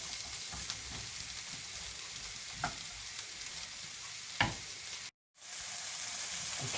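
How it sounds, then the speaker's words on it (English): Chicken fries in a pan with a soft, steady sizzle, a few faint clinks and stirring taps, and a brief cut to silence near the end. "Hear that nice sizzle?"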